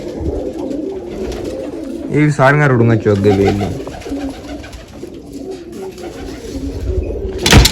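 Pigeons coo near at hand in a rooftop coop, a rich burbling run in the middle with softer coos around it, while someone talks over them.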